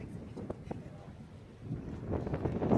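Gusty wind buffets the microphone outdoors, low rumbling and growing stronger toward the end, with faint water or boat noise beneath.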